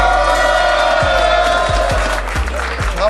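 A crowd gathered in a street circle in Marseille cheers and whoops continuously, with loud, dense voices and a few rhythmic thumps or claps under the noise.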